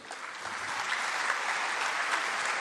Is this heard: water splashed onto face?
no